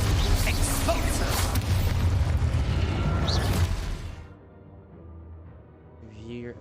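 An Expulso spell explosion in the Hogwarts Legacy video game: a loud, dense blast that roars for several seconds and then fades to a quieter tail, with a voice briefly heard.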